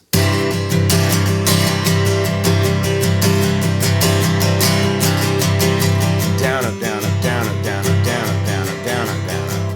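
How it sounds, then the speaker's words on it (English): Steady, loud guitar strumming in a quick even rhythm for a song, dense chords ringing continuously with regular accented strokes, close up and without voices. "an easy way to do it would be to strum it like this"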